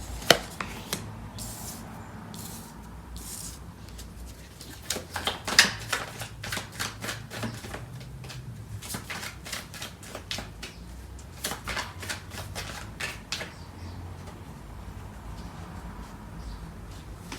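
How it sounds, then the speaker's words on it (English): Tarot cards are shuffled at close range during a reading: bursts of rapid papery riffling and soft slaps come in uneven runs separated by brief pauses, with no speech. "So I'm going to clarify these cards."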